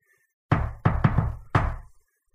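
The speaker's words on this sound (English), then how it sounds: "I'm gonna knock on the door." Knuckles rap on a door in a quick pattern of four or five sharp, close knocks, with a short pause before the last one, in an otherwise quiet room.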